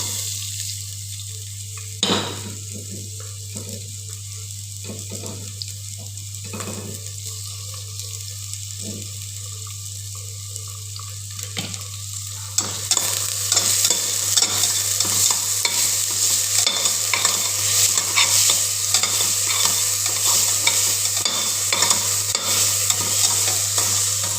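Onions, chillies and garlic frying in a little oil for a bottle gourd vegetable curry, with stirring and scraping that grows to a loud, steady sizzle after a quieter start with a few sharp clinks.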